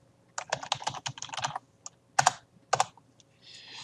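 Quick bursts of clicking keystrokes on a computer keyboard, close and clear, with brief pauses between runs and a few isolated taps near the end.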